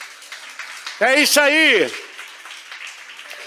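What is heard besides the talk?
congregation applauding in church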